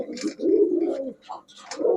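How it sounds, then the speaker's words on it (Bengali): Large-sized homing pigeons in a pair of couples, cooing close by in low, rolling repeated calls with brief pauses between phrases. "সুন্দর কবুতর এই দুই জোড়া"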